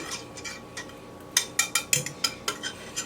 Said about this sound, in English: I'm going to mix it up just a little bit